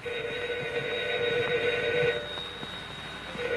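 A telephone rings indoors in a 1936 film scene, a bright electric bell tone sounding in bursts with short gaps, moderately loud with faint background hum.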